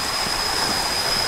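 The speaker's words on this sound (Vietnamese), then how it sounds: "suối từ trên xuống xuống rồi" A mountain stream pours down over rocks in a steady, close, broadband rush of water that fills the whole span without a break.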